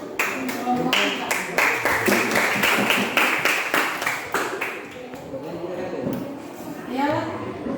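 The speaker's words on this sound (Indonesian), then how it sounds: "kita berikan aplaus kepada kelompok kita" Students in a classroom give a group a burst of brisk, lively applause from many hands, close and steady for several seconds before it thins out and a voice speaks.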